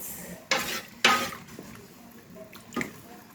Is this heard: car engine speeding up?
no